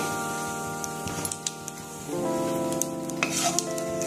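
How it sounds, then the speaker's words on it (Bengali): Nigella seeds (kalonji) sizzle in hot oil left from frying aubergines, a steady close crackling hiss that swells louder halfway through, with a few light stirring taps. "এবার ওই তেলের মধ্যে আমি দিয়ে দেবো কালো জিরে"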